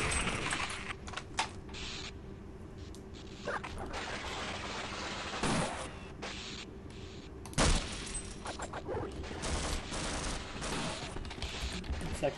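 Chaotic firefight in Half-Life: Uplink as soldier grunts battle alien slaves indoors, with dense crackling gunfire, sharp bursts and louder shots rising from a steady roar of combat, no talking.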